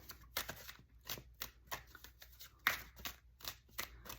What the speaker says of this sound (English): Last little shuffle.